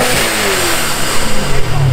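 A supercharged BMW engine revs hard with its exhaust fully open, a dense loud roar that swells and rises in pitch toward the end, close by at an outdoor car meet in Melbourne.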